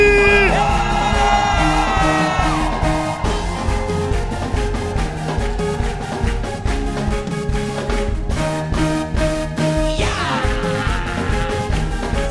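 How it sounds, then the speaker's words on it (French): A church congregation shouts and cheers loudly throughout, a dense wall of crowd voices and whoops mixed with music, with a rising yell near the end. "Poussez des cris."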